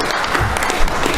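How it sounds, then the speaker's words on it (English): A round of applause breaks out at a joint legislative committee hearing on appropriations, a dense burst of many hands clapping close and loud for just over a second. "if you don't mind giving a round of applause for Mr. Justin Speck"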